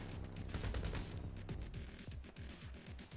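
Minigun firing in the video game GTA V, a dense rapid stream of gunfire blended with explosions and crashes, quiet and continuous across the whole moment.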